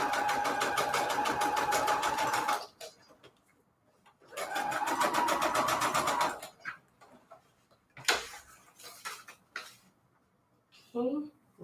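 A sewing machine stitches envelope pages for a junk journal in two long, rapid, buzzing runs with a pause between, close up, followed by scattered clicks and handling noises and a brief voice.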